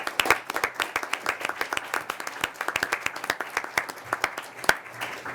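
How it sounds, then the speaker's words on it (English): An audience at a July 2019 commission meeting claps for departing commission employees, a dense run of sharp individual hand claps over several seconds, moderately close and fairly even throughout. "I did want to jump the gun in order to applaud these terrific public servants for their dedicated service"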